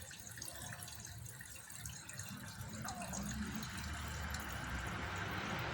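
AutoZone engine flush, about 240 ml, poured into the engine of a 2013 Ford Figo 1.4 during a service, giving a faint continuous liquid trickle that grows slightly fuller toward the end, with no talking.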